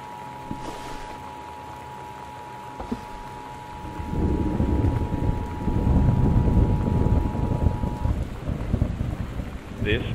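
Rain and a thunderstorm in the Gone Home video game: a steady wash of rain with a faint, constant tone, swelling into a louder, heavier rumble midway through and staying strong to the end.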